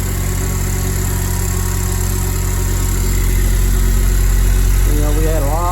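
A car engine idles loud and close after its timing chain, balance shaft chain and water pump have been replaced. The rumble runs steady throughout, and a voice speaks over it near the end.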